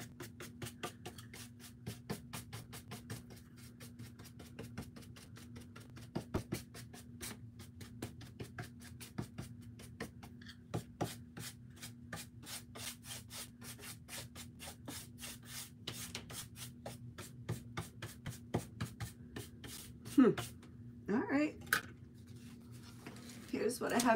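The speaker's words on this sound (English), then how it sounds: "I'm going to be sanding this piece too." Steady rhythmic hand sanding of wood, a close, continuous scratchy rubbing with repeated strokes, a steady hum underneath and a few louder knocks near the end.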